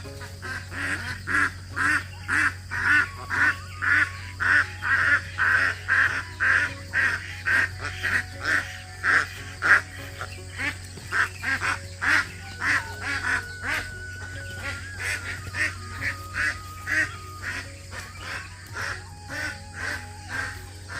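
Ducks and geese in a village yard at dawn give a long run of rhythmic, repeated quacking and honking calls, steady and fairly close, over a low constant hum.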